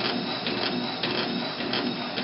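A needle felting machine runs steadily, a dense rapid mechanical chatter with faint periodic pulses, close and constant throughout with no speech.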